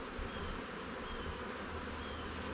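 Bees buzzing inside an open hive during inspection, a dense, continuous, faint drone with no breaks.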